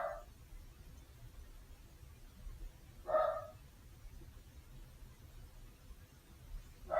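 A pet dog gives three short, spaced barks, quiet and somewhat distant, over a low background hum.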